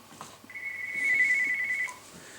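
A telephone rings indoors with one steady electronic ring tone lasting over a second, moderately loud and close, with no one talking over it.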